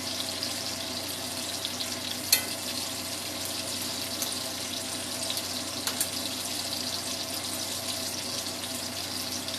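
Sausages frying in a pan give a steady, hissing sizzle throughout, with one brief sharp crackle near the start.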